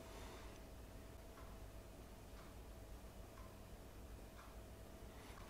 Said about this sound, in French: il y a mon horloge, je ne sais pas si vous l'entendez, qui fait tic-tac